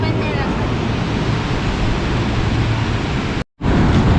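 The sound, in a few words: sea waves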